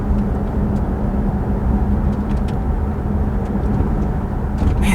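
A 2025 Cadillac CT5-V heard from inside the cabin as it accelerates, a steady loud low engine and road drone that holds constant with no clear rise in pitch.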